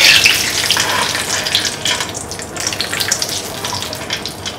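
Cashews and raisins fry in hot ghee for an Onam unniyappam payasam, giving a steady, close bubbling sizzle with a brighter spattering burst at the start and no talking.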